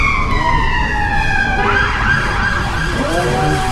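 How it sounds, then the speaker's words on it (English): A loud wailing siren sweeps downward and then rises again, close by, with traffic noise underneath. "I don't think the dog likes this siren."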